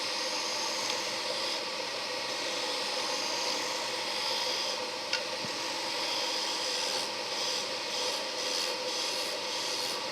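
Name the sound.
lathe turning green cherry wood wand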